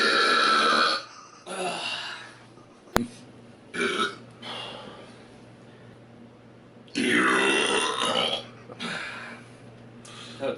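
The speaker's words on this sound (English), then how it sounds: "No, it's not the good burp." A person gives several long, loud, gravelly burps after drinking something foamy. They come in separate drawn-out bursts with quiet gaps between them, close to the listener.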